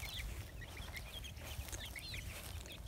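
Baby chicks near a pet dog give a run of high, quick cheeps scattered across the whole stretch, fairly faint and alone with no talking.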